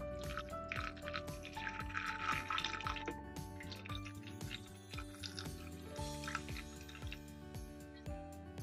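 Water poured into a pot of strawberries for a jelly, a close running splash and trickle that fills the pot, with a steady liquid gurgle and drips.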